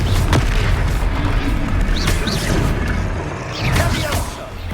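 Confringo fire-blast spell in the Hogwarts Legacy video game during a Hogsmeade boss fight, loud booming explosive bursts over a constant rumble of battle noise, with a few short sharp cracks spread through the clip.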